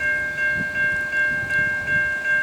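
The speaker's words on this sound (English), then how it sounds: "with a train just coming over the bridge over South Road" A train rumbles across the railway bridge over South Road near Croydon station, Adelaide, with a steady tonal whine above a low rolling rumble and rhythmic pulses as the carriages pass close by.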